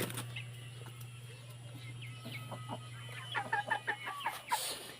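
Indio Giganti chickens in a breeder pen cluck in short, scattered bursts over a steady low hum, the calls growing busier and more overlapping toward the end.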